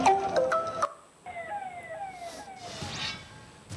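A fire brigade siren wails at a fire scene, its rising and falling tone heard from a distance under traffic and crowd noise, after a brief burst of clattering sound.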